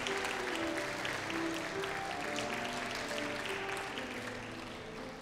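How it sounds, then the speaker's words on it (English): A school chapel audience of children and staff applauds, a dense patter of many hands that starts full and slowly tapers off over several seconds, heard fairly distantly with no talking. "One more round of applause for our doers this week."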